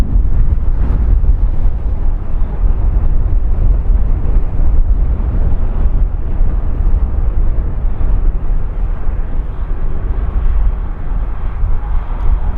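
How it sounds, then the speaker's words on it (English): A tractor engine running at high revs at Christchurch Airport, a loud steady low rumble that continues unbroken and alone. "It's like, oh, full noise engine run. It's not, it's a tractor."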